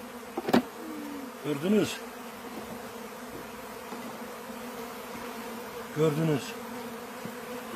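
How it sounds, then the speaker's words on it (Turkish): Bees buzz steadily around a hive during a beekeeper's bare-handed inspection, a constant close drone filling the air while someone speaks briefly over it with a few sharp bumps. "Bak hep arı bunlar."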